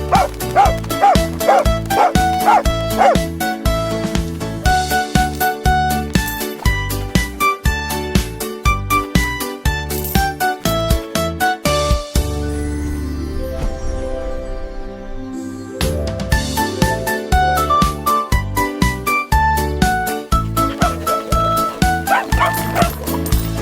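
A dog barks in short yips over a bouncy, fully arranged children's song, the barks blended into steady music that runs loud throughout.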